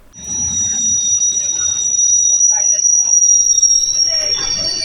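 A 22805 Bhubaneswar–Anand Vihar weekly superfast train, heard from inside a sleeper class coach, runs along the railway with a loud, steady rumble of wheels on track and a thin, high metallic squeal above it.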